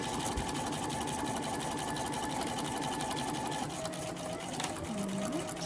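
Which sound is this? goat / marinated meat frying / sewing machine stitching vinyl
sewing machine stitching vinyl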